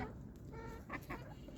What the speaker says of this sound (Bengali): দেশি মুরগি অনেক চঞ্চল